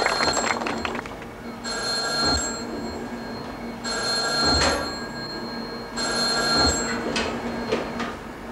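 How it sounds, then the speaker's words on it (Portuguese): A telephone rings in three bright, repeated bursts separated by short quiet gaps, each ring trilling loudly and close, with no talking over it. "O telefone toca, eu atendo"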